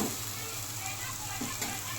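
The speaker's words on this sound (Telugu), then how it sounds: "పుదీనా ఫ్రై అయింది చూడండి" Continuous soft sizzling of mint leaves frying in hot oil, steady and close, with a faint stir or two.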